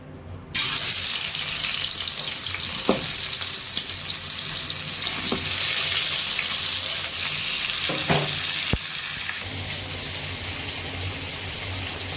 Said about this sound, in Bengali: এবার অন্য চুলায় রোস্টের মাংসগুলো ভেজে নিব